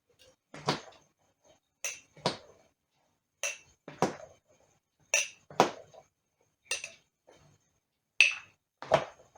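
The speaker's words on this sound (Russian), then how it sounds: "И сейчас накладываю рассольник свой." A series of clinks and scrapes of a utensil against dishes as rassolnik soup is ladled into a bowl, repeated about a dozen times at an irregular pace, close and otherwise quiet.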